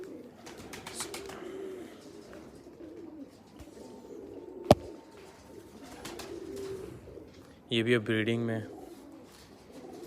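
Teddy pigeons in a breeding loft coo softly in several low, rolling phrases, with a louder burst near the end, while someone talks over them and a sharp click cuts in midway.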